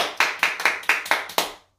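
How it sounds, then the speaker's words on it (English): A group of preschool children claps their hands seven times in a quick, fairly even rhythm; the bright, sharp claps sound close and clear with no voices over them. "Everybody clap your hands."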